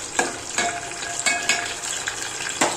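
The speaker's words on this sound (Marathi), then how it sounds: "त्याच्यामध्ये आहे ना मोहरी टाकते, जिरं मोहरी आमचं एकत्र आहे आणि ते असं टाकून देते" Cumin and mustard seeds hit hot oil for a tadka, a loud steady sizzle and crackle with a few sharp pops and spoon scrapes against the pan.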